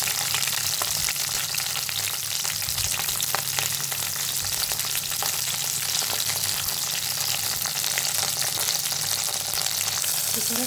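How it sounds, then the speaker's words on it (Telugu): Green chillies fry in a little oil in a pan, a loud, continuous close-up sizzle and crackle with no talking. "ప్యాన్లోకి కొంచెం నూనె వేసుకున్నా. ఇప్పుడు ఒక్కొక్కటి వేపుకుందాము. ఫస్ట్ పచ్చిమిరపకాయలు వేసుకున్నాము."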